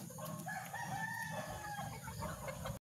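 Chickens at feeding time, with a rooster crowing and hens clucking close by in a steady, busy flock din that fills the whole clip before it cuts off abruptly.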